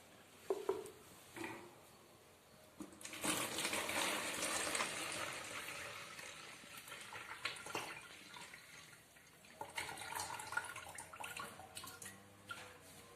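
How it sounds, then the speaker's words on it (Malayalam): Tobacco decoction poured and strained through a sieve into a vessel, a steady close splashing and trickling stream that swells after a few seconds, then thins to drips and patters. "ഇനി നമുക്ക് ഇതുപോലൊരു പാത്രം എടുത്ത് ഒരു അരിപ്പയിൽ ഇത് നന്നായി അരിച്ചെടുക്കാം"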